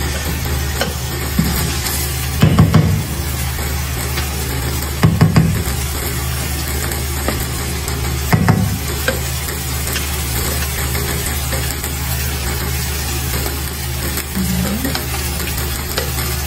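A green rice mixture sizzling and frying in a hot pan, a steady hiss with a few louder scraping stirs at intervals, close and continuous.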